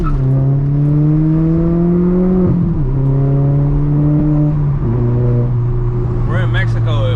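A straight-piped VW MK4 GTI with a 1.8T engine rolling on the road, a loud droning exhaust note that steps between gears, with voices heard near the end.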